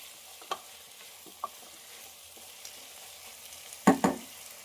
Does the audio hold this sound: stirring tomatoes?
yes